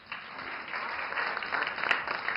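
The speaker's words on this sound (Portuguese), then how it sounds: "Eu quero aplausos" A short burst of applause from a crowd, steady and moderately loud, clapping building slightly toward the end.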